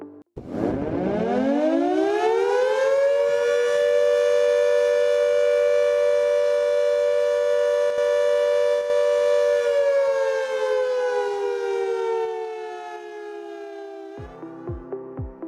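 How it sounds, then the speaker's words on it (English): A site emergency siren for an evacuation drill winds up from a start, holds a loud sustained wail, then slowly drops in pitch and ends in a few short rhythmic pulses. "The end of the emergency and the emergency drill will be signified by a 1-minute sound off of emergency siren."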